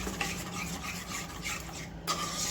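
Halwa mixture stirred steadily in a pan over low heat, a continuous close scraping and rubbing with a few light knocks of the spoon against the pan, no voices.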